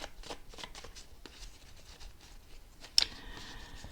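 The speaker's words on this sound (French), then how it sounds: "j'ai besoin de place pour disposer l'oracle Moritana en 15 cartes" Moritana oracle cards being laid out on a table, a run of soft brushing slides and light taps over about four seconds, with one sharper card snap near the end, close and fairly quiet with no talking.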